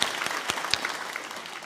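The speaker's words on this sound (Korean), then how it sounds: "하나님께 영광의 박수 드리겠습니다" A church congregation claps during a Sunday worship service, a short burst of applause with a few sharper individual claps standing out, heard alone without talk.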